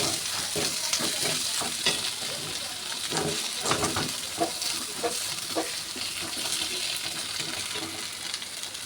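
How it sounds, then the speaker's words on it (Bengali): Potatoes sauté in hot oil with a continuous loud sizzle and frying crackle, along with recurring scrapes and clatters of stirring in the pan. "ভালোভাবে আলুটা কষিয়ে নেব।"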